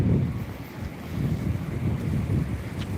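Cold wind blows outdoors in Japan near an aquarium, a low, steady rumbling gust buffeting the microphone for a few seconds, with no talking.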